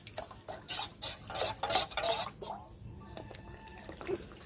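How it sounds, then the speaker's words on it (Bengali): A spoon stirs a milk and cornflour mixture into mango pudding in a pot: several quick scraping, sloshing strokes in the first half, then quieter clinks and faint kitchen noise, close and moderately loud. "এবার আস্তে আস্তে দুধ আর কর্নফ্লাওয়ার মিশিয়ে রাখা মিশ্রণটাকে দিয়ে দেব"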